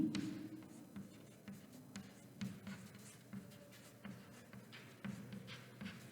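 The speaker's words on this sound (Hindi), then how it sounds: "अब जिस चीज से मैं चौक से लिखती हूं" Chalk scratches and taps faintly against a classroom board in short, irregular strokes. The sound is soft and close, and no one speaks.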